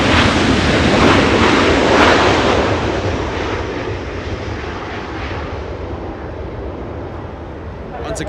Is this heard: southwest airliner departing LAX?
yes